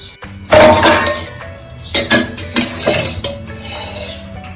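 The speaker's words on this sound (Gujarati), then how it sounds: "બાઉલ નાખીશું" A metal bowl clanks down onto a stovetop, followed by several lighter clinks and knocks of cookware, close by and sharp.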